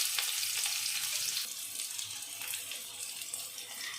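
One cup of chopped onion drops into a pan of hot oil and sizzles with a steady, bright hiss that eases slightly after the first moment and continues evenly.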